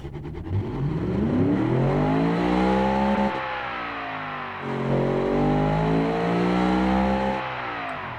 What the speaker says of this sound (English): I can rev it to 8200